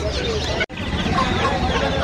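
Many chickens, including Silkie, Brahma and Aseel fighter breeds, cluck densely together in a noisy, crowded poultry market at Kaptan Bazar, with one brief cut in the sound.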